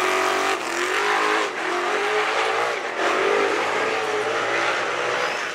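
Drift car powered by a naturally aspirated NASCAR-sourced engine that revs to 11,000 rpm, screaming loudly and continuously at high revs with brief dips and surges, close by at a drift event in Riga.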